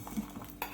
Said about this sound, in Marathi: आपण याला मिक्स करून घेऊया.